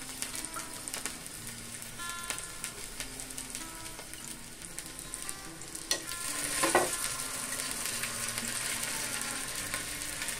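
Sweet potato slices fry in ghee in a pan, giving a steady low sizzle with faint stirring and scraping clicks throughout and a brief louder clatter near the middle.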